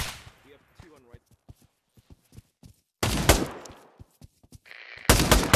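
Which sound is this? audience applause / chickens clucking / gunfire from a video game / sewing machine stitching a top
gunfire from a video game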